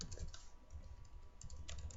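Close, soft computer keyboard typing as a name is entered while setting up a Bukkit server, with quick irregular clicks in small clusters, quiet and with no talk.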